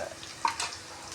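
Soft, steady sizzling of bay leaves and spices sautéing in a frying pan, with a brief louder crackle and faint clinks near the start.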